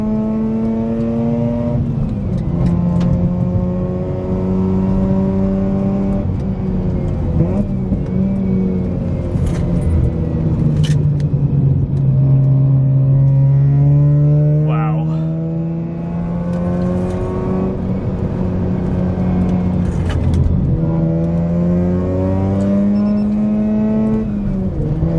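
A Mazda RX-8 engine revs and accelerates repeatedly, loud and close, pitch climbing and dropping through gear changes with a steady roar throughout, no stuttering.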